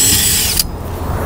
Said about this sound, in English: When I'm drilling in a fiberglass roof, I'm only just penetrating the fiberglass.